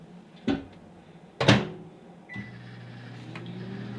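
A microwave door clicks shut with a couple of sharp knocks, then the oven starts with a steady electric hum that continues to the end.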